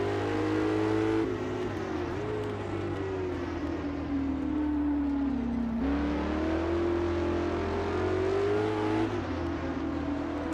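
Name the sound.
historic sportscar engine, Norisring in the Assetto Corsa video game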